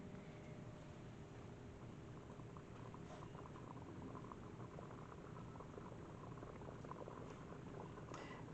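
Dirt of Eden cooking mixture boiling in a pot, a steady dense bubbling and simmering wash with faint pops, continuous and close throughout.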